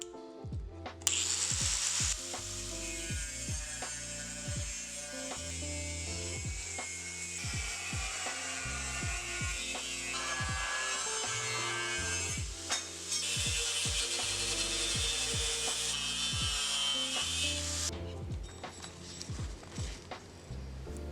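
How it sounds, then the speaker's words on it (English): A grinding wheel cuts the profile of a knife out of clamped steel, making a loud, harsh, continuous screech with scattered knocks and thumps that ends shortly before the close. "clamp down the steel and cut out the profile using my grinding wheel"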